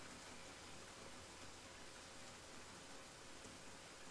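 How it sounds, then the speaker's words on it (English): Rain falling outdoors, a steady faint hiss of dense drops with no breaks, distant and even throughout. "I can see that it's raining"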